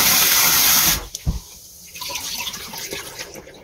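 Soaked glutinous rice for suman being drained, water pouring steadily like a running tap for about a second, then stopping, followed by faint drips and quiet handling of the wet rice.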